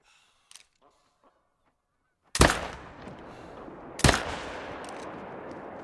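Two loud rifle shots ring out in the hunting game Call of the Wild, each a sharp crack followed by a long rolling echo, spaced about a second and a half apart after a quiet stretch with faint game sounds.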